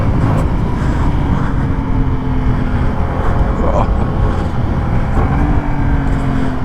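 A 2024 Yamaha MT-07 motorcycle engine thrums loudly and steadily while riding, with wind rush and shifting engine tones running continuously and close.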